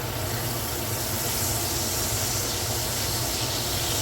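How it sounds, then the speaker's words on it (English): Steady, dense sizzling hiss of a thick sirloin steak frying and being basted in a hot pan, continuous and fairly loud throughout with no talking. "You hear it sizzling?"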